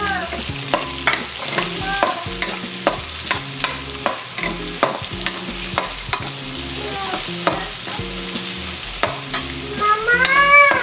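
Onions sauté in a pan for adobo with a steady close sizzle, punctuated by regular clacking and scraping from a spatula stirring them, while tonal music plays underneath.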